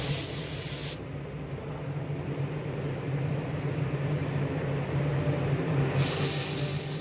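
STL 1500W handheld laser welding machine running, a loud steady hiss of shielding gas and beam that drops slightly after the first second and swells again near the end, with no talk.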